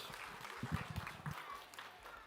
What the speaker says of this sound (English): Let's give it up for Liam and Benjamin. Round of applause.